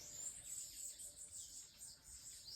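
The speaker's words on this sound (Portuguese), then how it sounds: "E vamos trabalhar ao som dos passarinhos mesmo." Faint outdoor birdsong, with small birds chirping and tweeting in a thin, continuous high chatter at a distance over a soft background hum and no speech.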